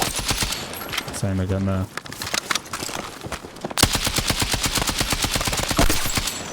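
Rapid automatic gunfire from a video game weapon fitted with an underbarrel attachment, sustained bursts loud and close, with a brief pause and a short spoken remark partway through.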